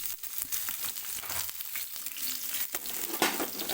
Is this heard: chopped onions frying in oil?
yes